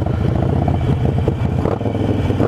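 A Harley-Davidson Sportster motorcycle engine throttles loudly nearby, a rough, pulsing rumble with clattering mechanical texture that holds steady without a break.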